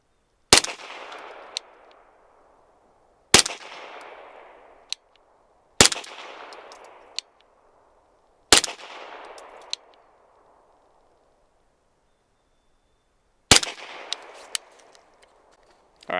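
Five sharp rifle shots, fired one at a time several seconds apart from a suppressed rifle at an outdoor shooting range, each a loud crack with a decaying tail, a few small metallic clicks between shots, and no talk.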